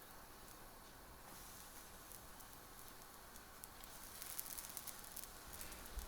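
A Goan-style tenderloin burger patty sizzles on a hot cast iron griddle, a steady close broadband hiss and crackle that grows slightly louder toward the end, with no voices.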